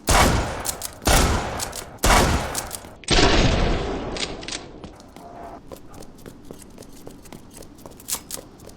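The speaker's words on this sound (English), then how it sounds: "now to go over the one and only shotgun in this game so far, Leon's W870 shotgun" Leon's W870 pump shotgun in Resident Evil Re:Verse fires four loud, booming blasts about a second apart, each with a short decaying tail, followed by quieter clicks and light handling noises.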